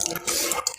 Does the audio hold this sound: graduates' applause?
no